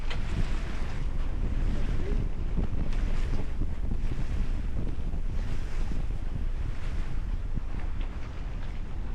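Strong wind buffets the microphone aboard a sailing boat, a constant low roaring rush with water and wave wash underneath and no voices.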